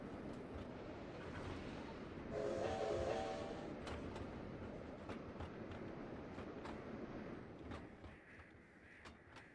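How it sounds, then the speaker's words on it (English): A train running in Trainz Railroad Simulator 2019 on a Wild West route, a faint rolling rail clatter with a brief brake squeal and scattered clanks, fairly quiet throughout. "So I'm gonna have to try and have the train stop"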